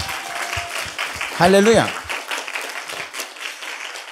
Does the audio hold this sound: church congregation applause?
yes